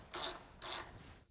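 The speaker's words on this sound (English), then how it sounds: "I got a nut on mine, we just gotta tighten it" A ratchet wrench tightens a nut on a car strut in two quick, close bursts of rapid clicking, then a faint tail.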